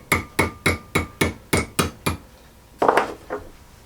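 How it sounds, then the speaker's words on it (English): A jeweler's hammer taps the metal of an old Rayo No. 92 lantern: eight evenly spaced, ringing strikes, then a short pause and a louder, rougher cluster of blows, close and loud with no talk. "The jeweler's hammer."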